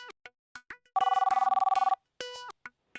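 A telephone bell rings in one rapid trilling burst of about a second, close and clear, with people talking just before and after.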